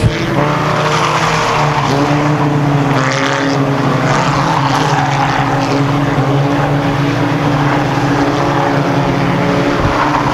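Race cars roar around a dirt raceway at Ogilvie Raceway, their engines a loud, continuous, close drone with shifting pitch and no break.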